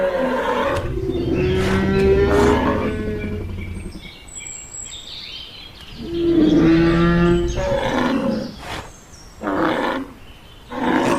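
Giganotosaurus roars and cries in a dinosaur sound effect, two long, loud, throaty bellowing calls in close succession followed by shorter grunting bursts, with no talking.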